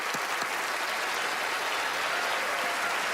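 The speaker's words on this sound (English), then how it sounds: "Give him a round of applause." A studio audience at a magic show applauds a volunteer coming up to the stage, a steady wash of many hands clapping at even loudness, heard at a moderate distance with no voices on top.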